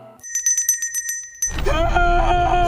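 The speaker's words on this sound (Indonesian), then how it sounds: "dia mendengar suara lonceng dari kuburan" A bell rings in a quick series of bright strikes, then a louder, lower ringing tone swells and sustains with a busy background underneath.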